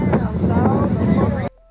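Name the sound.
strong wind blowing on microphone outdoors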